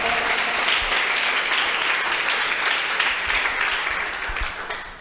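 A church congregation applauds together in dense, sustained clapping that stays loud and steady, thinning slightly near the end.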